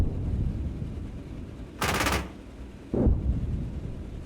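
The cannon of a Marder A1 infantry fighting vehicle fires armour-piercing rounds in a video game, giving a sharp loud blast followed a second later by a second shorter shot over low rumbling battle ambience.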